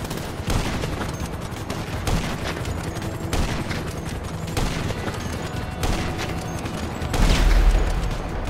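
Heavy sniper rifle fire in GTA V: several loud, sharp shots spaced a second or so apart, each with a booming tail, from close range with no talk.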